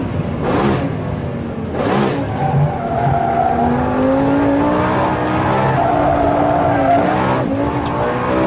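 A Lamborghini Gallardo SE driven hard on a track roars close by, its engine note rising and falling, with brief tire squeals as the grabbing brakes bite.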